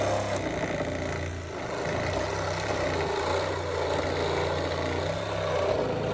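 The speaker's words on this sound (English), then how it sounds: "Sawzall saves the day." A Sawzall reciprocating saw with a dull blade runs steadily, loud and close, with a continuous buzzing drone throughout while cutting material for a chicken coop.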